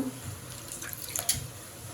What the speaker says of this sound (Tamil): இது கீரை இப்படி அள்ளி இப்படி அலசி வச்சுட்டோம்னா